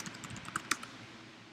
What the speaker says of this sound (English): So let's type in The Maze Runner.